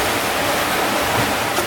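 Water rushes steadily around a sailing boat on a calm, cloudy Atlantic Ocean, a close, even broadband wash with no breaks or voices.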